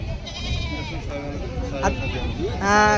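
Goats bleat at a busy village goat market, several wavering calls rising over a steady babble of people talking nearby, with a louder bleat close by at the end.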